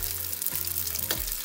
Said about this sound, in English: So we are frying some wonton